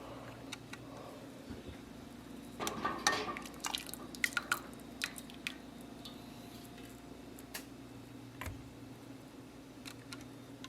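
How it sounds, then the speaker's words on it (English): Water drips off hot canning jars of onion jam just lifted from the canner, a scatter of faint, irregular taps and ticks in a quiet kitchen, clustered in a brief burst and then sparse. "just let them drip a little bit"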